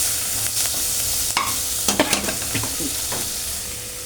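Spices for khichdi sizzle and fry in a pan while a utensil stirs them, giving a continuous hiss broken by several sharp scraping clatters, close and fairly loud, with no talking.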